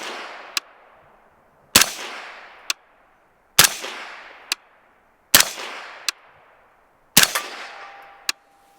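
A rifle fitted with a Dead Air Primal suppressor fires subsonic rounds: five evenly spaced, muffled shots with short decaying tails, each followed by a sharp metallic tick. The sound is close and clear, with no talking.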